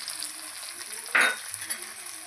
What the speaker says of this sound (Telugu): ఇలా కలుపుకున్నాము బాగా వేగినాయి కదండి